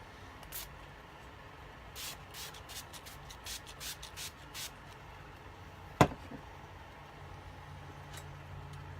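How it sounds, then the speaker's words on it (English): A string of short, sharp spray bursts from a Wet n Wild makeup setting spray pump bottle, quick and close, followed by a single sharp knock and quiet. "I do have a Wet n Wild setting spray"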